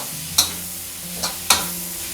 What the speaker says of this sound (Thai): หลังจากนั้นเราก็จะผัดให้เขาเข้ากันเลยนะครับ